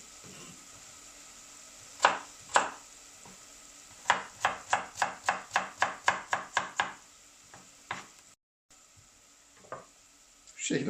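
A knife chops potatoes into small pieces on a cutting board: two single strikes, then a quick, steady run of about a dozen cuts, then a few scattered chops.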